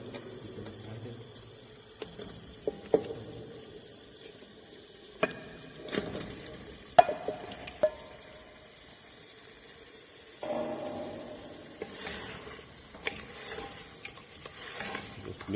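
Mutton pieces being stirred into spice-laden oil for Kashmiri rogan josh, with sharp scraping clacks of a spoon against the pan over a soft sizzle, irregular strokes across the whole stretch.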